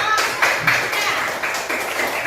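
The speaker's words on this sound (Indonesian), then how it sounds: "Kasih tepuk tangan untuk kelompok 3" Classroom of students clapping for a presenting group, a steady patter of many hands close by that tapers off toward the end.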